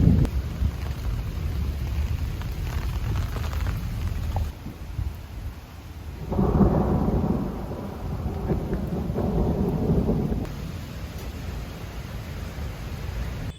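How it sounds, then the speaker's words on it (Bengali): Rain falling outdoors during a thunderstorm, a steady hiss of drops on surfaces with a deeper rumbling swell in the middle, continuous and fairly close, with no one speaking. "টিপটিপ করে বৃষ্টি পড়েই যাচ্ছে, এখনও পড়ছে।"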